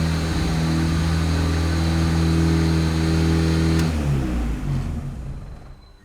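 A Honda Civic engine holds a loud, steady high idle in limp mode, a droning hum that drops in pitch and winds down toward the end, with no talking.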